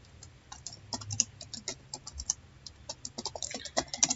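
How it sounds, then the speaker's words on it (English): Computer keyboard keys tapped in a steady, quick run of light clicks, close and fairly quiet, with a few heavier strokes near the end like the enter key being pressed. "you need to press enter on the keyboard"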